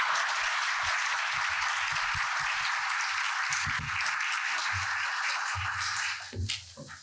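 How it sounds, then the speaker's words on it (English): Sustained audience applause for a panel fills the room, a dense steady clapping that fades slightly toward the end with a few louder individual claps. "how about a round of applause for our panelists here?"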